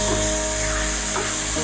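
Chopped tomatoes sautéing in a pan for kuska, a steady broadband sizzle with a low hum running beneath, loud and close, briefly shifting near the end.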